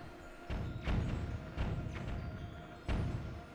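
Bomb blasts from the video game Zelda Wind Waker: four heavy, muffled booms at irregular intervals, each a short broad burst that fades into a steady rumbling background.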